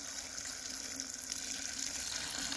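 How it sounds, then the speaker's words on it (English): Water pours steadily into a container of seaweed to submerge it for homemade fertilizer, a continuous close splashing gush with no talking. "when you're adding the water, I just want to add enough to submerge the seaweed"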